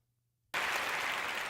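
Sudden burst of dense applause, many hands clapping close and steady after a half-second of near silence, continuing loudly to the end.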